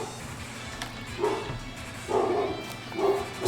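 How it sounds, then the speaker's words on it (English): A pet dog barks in the background of a home recording while someone plays a Pokémon game online. There are three or four short muffled barks spaced about a second apart, faint and distant against a low room hum. "Sorry if you hear my dog barking"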